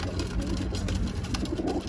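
Domestic pigeons, strong-flying birds kept for training, cooing softly and continuously at close range over a low background hum, with no talking.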